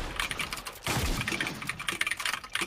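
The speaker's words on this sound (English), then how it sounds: "how is this keyboard this loud?" Rapid, loud clicking of a computer keyboard being typed on, a dense clatter of keystrokes close to the microphone.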